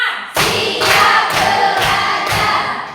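Five loud, evenly spaced bursts of claps from a class group, each a sharp crowded smack, rhythmic and close.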